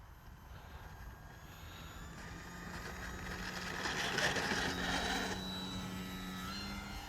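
An Arrows RC Tecnam 2010 electric model airplane on a 3S battery passes overhead, its motor whine rising as it nears mid-flight and then easing off but staying audible at moderate distance.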